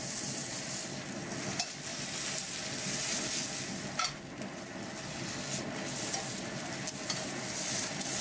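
Filet mignon steak pan-frying over low heat, a steady close sizzle and crackle of fat with occasional soft scrapes of a utensil against the pan, no voices.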